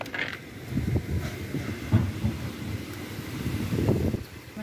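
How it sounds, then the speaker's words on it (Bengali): A strong storm wind roars outside a home in America, a steady, gusty rush with low rumbling surges and no voices. "দেখো কি ঝড় উঠেছে।"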